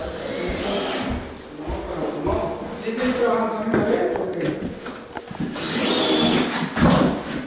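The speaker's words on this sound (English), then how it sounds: "So they're putting screws in here to nail everything down." A power drill drives screws into cabinets during a home build, with several short whirring bursts under and between steady talk nearby.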